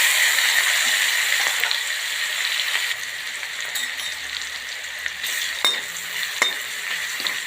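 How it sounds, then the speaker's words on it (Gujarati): Ginger, chilli and garlic sizzle steadily in a mix of ghee and oil, a close, even frying hiss with occasional light stirring clicks throughout. "આદુ મરચાં લસણ સરસ મજાને આપણે શેકાવા દઈશું।"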